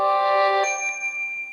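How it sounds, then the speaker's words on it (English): A mobile phone notification sounds close by in a quiet room during paper crafting, a bright electronic chime of sustained ringing tones that shifts pitch partway through and then slowly fades. "So sorry, that's my phone."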